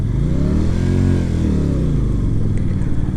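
A QJMotor SRV 125 cruiser motorcycle pulling away in second gear, its single engine droning steadily and rising in revs, close and loud without any talking.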